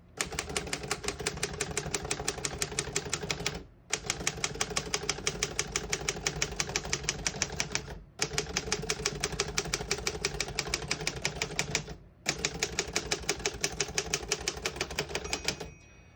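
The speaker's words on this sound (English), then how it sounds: "I was able to type all the letters on one line because it has Elite typeface" Rapid, even clacking of keys on a 1952 Royal HHE vintage desktop typewriter, four long runs of close, crisp strikes separated by short pauses, each run ending with a carriage return.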